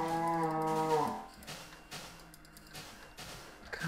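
A Minecraft cow (Beta 1.2) gives a clear, fairly close moo lasting about a second at the start, followed by quieter game sounds and soft shuffling.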